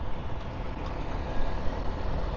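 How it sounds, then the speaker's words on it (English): A garbage truck rolls past on a street in Siem Reap, its steady broadband engine rumble filling the scene at close range, swelling slightly as it goes by, with no voices heard. "I think that's the garbage truck."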